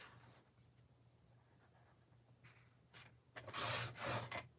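Scissors cut through painted collage paper in a craft session, with faint soft snips and rubs early on, then a louder burst of crisp slicing and rustling near the end, close by and without any talk.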